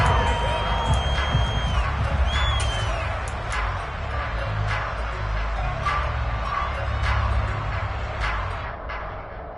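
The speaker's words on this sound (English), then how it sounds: "How about some applause for the defense there?" A stadium crowd at an American football game cheering and whooping after a defensive stop, a loud sustained roar with scattered shouts and whistles running under a commentator's voice.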